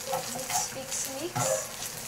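Leftover canned tuna mixed with egg, seasoned with salt, black pepper and a sweet syrup, sizzles in a frying pan while being stirred, with soft scraping and crackling close by.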